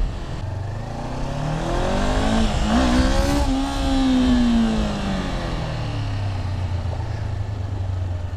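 A motorcycle engine revs high and climbs to a strong peak for a clutchless power wheelie, then falls back to a lower drone, loud and close on the road, with no voices.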